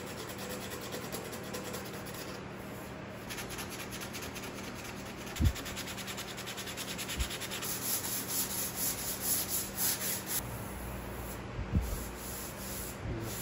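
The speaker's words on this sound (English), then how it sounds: "do a little hand sanding on these areas" Body filler on a 1962 Ford Falcon is hand sanded with steady, close, gritty rubbing, the strokes turning more rhythmic midway through.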